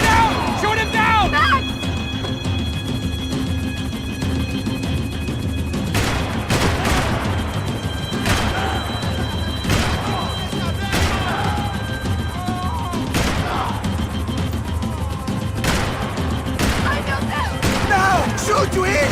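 Gunfire in the game Max Payne 3 during a chase: repeated sharp loud shots in scattered bursts and volleys, mixed with crashes and a continuous engine-like drone, while people shout beneath.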